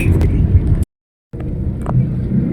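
Road traffic on a street in the Philippines, a steady broadband rumble of passing vehicles with a brief dropout in the middle before the same traffic noise resumes.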